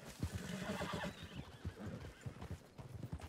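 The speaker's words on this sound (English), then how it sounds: "Oh, it's another horse. That's what I heard." A horse neighs and whinnies in Red Dead Redemption 2, with clip-clopping hooves running steadily underneath and no talk over it.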